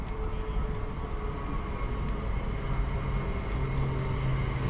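An LNER Azuma express train rumbles and hums at a station platform, a steady low engine drone with a faint rising tone near the end, no talking.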